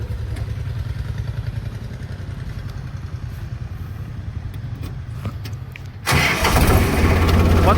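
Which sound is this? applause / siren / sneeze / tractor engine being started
tractor engine being started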